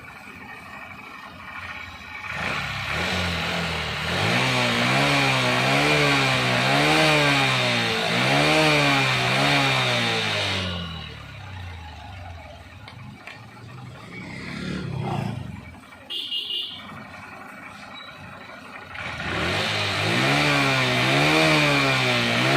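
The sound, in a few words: Honda Livo motorcycle engine revving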